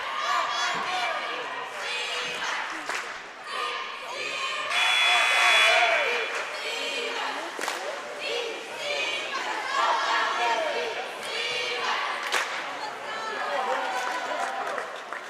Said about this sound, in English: that was your DC West Falcons cheer team getting the crowd ready to go